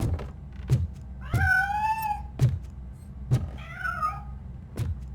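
A cat meows twice in RoboCop Rogue City, two drawn-out rising-and-falling cries between sharp, evenly spaced thuds and a low background rumble, with no talking.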